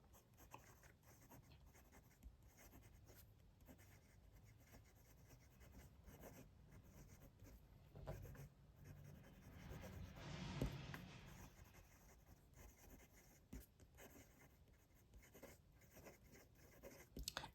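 A Hongdian Black Forest Max fountain pen scratches softly across paper in steady, continuous strokes, quiet and close, with a slightly firmer burst of nib noise partway through and no talking.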